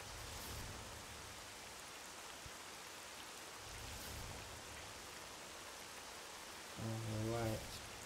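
Rain falls in the video game S.T.A.L.K.E.R.: Call of Pripyat, a faint, steady hiss of drizzle with soft patters, and a brief voice-like tone rises near the end.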